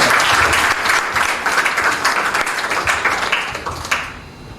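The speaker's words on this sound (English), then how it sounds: "Give yourself another round of applause." An audience at a youth entrepreneurship training workshop applauds in a loud, dense burst of clapping that carries on for several seconds and then fades toward the end.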